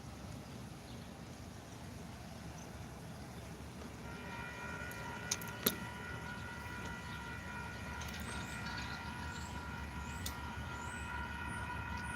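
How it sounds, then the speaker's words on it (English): A distant train approaches over steady low rumble, with sustained horn-like tones rising midway and a couple of sharp metallic clanks. "Got another train coming down the way."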